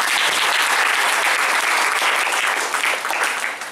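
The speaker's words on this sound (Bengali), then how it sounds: "আমরা আবার একসঙ্গে সবাই একটু জোরে হাততালি দিই।" An audience at a school function claps loudly and steadily, a dense sustained applause that fills the whole stretch and tapers slightly at the end.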